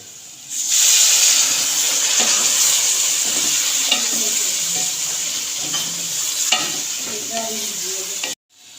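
Potato karahi masala with added water sizzles and bubbles in a pan, a loud steady frying hiss close by, with spoon-stirring scrapes and knocks throughout before stopping abruptly.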